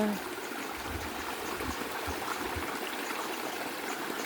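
Water flowing steadily in a forest stream, a continuous close trickling and babbling wash that holds an even level throughout with no speech over it.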